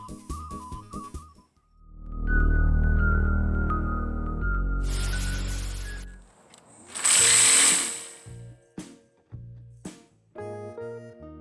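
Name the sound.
power sanding wood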